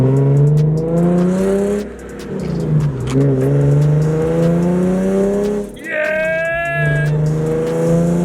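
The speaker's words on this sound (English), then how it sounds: "those 6 cylinders working together just sounds so good" Nissan/Infiniti V6 engine revving while driving after new spark plugs: loud, close rising and falling engine tones through several gear pulls, with a brief dip between shifts and a person's excited shout.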